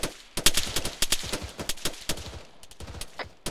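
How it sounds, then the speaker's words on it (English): Heavy automatic gunfire in the military shooter Arma, a rapid, sustained string of sharp close shots and bursts over a few seconds, with no talk. "taking heavy fire"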